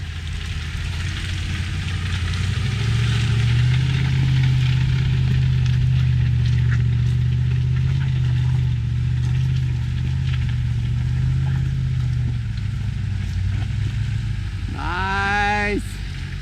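A Land Rover climbs an off-road slope in Norway in low gear, its engine droning steadily and close throughout, with a brief rising whine near the end.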